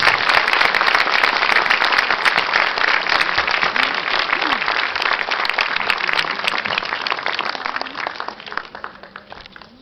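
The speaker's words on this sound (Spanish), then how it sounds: "Palmas para nuestra madre" A crowd applauds steadily at a Catholic street procession for Our Lady of Reconciliation in La Molina, with dense clapping that holds for several seconds, then thins and fades toward the end.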